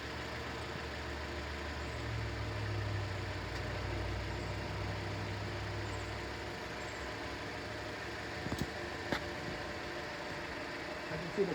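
A Jeep Renegade idles with its AC compressor running, a low steady engine hum in the background while a person talks nearby, with a few faint clicks near the end.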